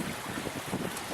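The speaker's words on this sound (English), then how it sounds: "So let's just turn the hose on and we'll add some water to the system." Water runs from a garden hose into a gold sluice setup, a steady broadband rushing hiss that fills the whole brief moment without pause, close and fairly loud, with no voices.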